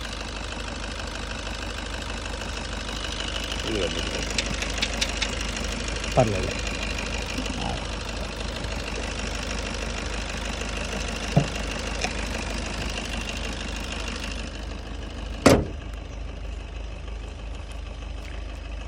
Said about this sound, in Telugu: ఇంజన్ నాయిస్ అయితే చాలా తగ్గిపోయింది.